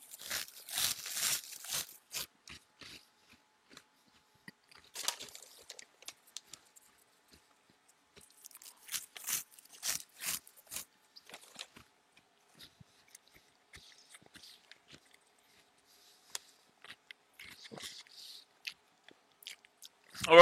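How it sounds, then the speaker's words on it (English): Food is crunched and chewed close to the mouth in quiet, irregular bursts of crisp crunching and soft mastication, separated by short silent pauses. "forgive the noise of all the crunch and whatnot"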